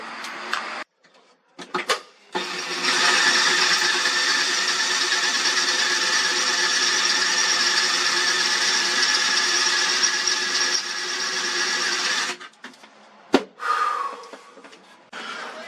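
A power drill with a 1/2-inch bit whines steadily for about ten seconds boring through metal mounts in a BMW E36, with brief starts before and a few short bursts after, loud and close, no talking.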